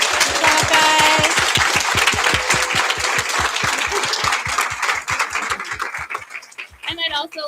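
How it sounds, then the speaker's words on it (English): Audience applause for students at a school board meeting: a sustained burst of clapping from a room of people, fading toward the end as a voice speaks over it. "let's give one more big round of applause to our students."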